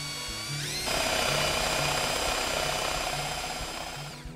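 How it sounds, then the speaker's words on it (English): A power drill spins up and then whines steadily at high speed boring vertically through wood for several seconds before easing off slightly at the end. "the drill bit is straight, going vertically through the piece of wood. Start off slowly."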